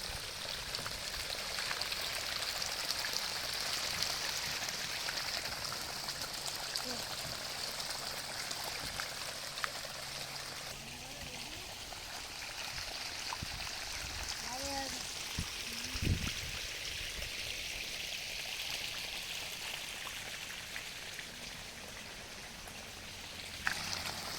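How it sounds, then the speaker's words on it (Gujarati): Water flowing into a garden area, a steady broadband rush like a running stream that continues evenly throughout, with faint voices and brief knocks now and then. "આવી રીતના પાણી આવે છે"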